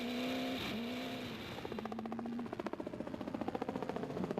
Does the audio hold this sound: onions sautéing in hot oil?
no